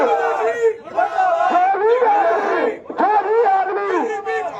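A protest rally in Hindaun against a new UGC law: a crowd shouts slogans in loud, ragged chanted bursts with brief pauses, the voices close and overlapping.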